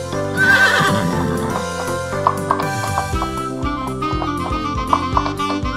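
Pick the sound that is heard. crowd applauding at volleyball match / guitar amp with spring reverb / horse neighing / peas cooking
horse neighing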